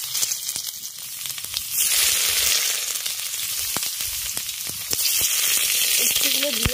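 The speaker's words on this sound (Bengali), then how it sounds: "উচ্ছেগুলো দিয়ে উচ্ছেগুলোকে খুব ভালো করে লাল করে ভেজে দিতে হবে।" Stuffed bitter gourds fry in hot mustard oil with a loud, steady sizzle and crackle that runs throughout, close to the pan and with no talking.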